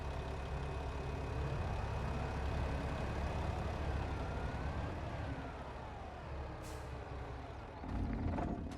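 Truck engine from the Farming Simulator video game rumbling steadily at close range while the truck is pulled aside, with a sharp air-brake hiss near the end; no one speaks.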